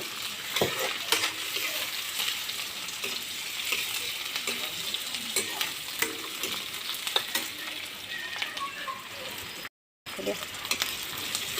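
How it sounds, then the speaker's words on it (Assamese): Chopped onions and green chillies sizzle steadily in a hot pan for a pork curry, a continuous close frying hiss with occasional stirring scrapes and a brief gap near the end. "এনেদৰে পিঁয়াজখিনি ভাজি থাকিব অলপ সময়।"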